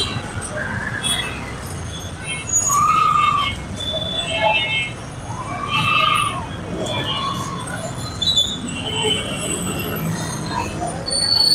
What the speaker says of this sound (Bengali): এইখানে রেলের একটা যানজট থাকে। এই হচ্ছে একটা বিদ্যুতের গাড়ি খুব সম্ভবত।